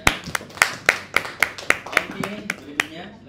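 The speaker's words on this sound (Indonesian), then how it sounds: "Tepuk tangan dulu semuanya." Clapping at a university student discussion session, about a dozen sharp, loud, evenly spaced claps close by, slightly irregular as they wind down, with faint voices underneath.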